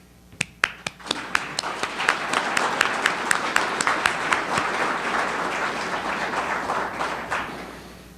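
Audience applause at a year-end analysis talk, starting as a few sharp separate claps that quickly build into steady crowd clapping, then thin out toward the end.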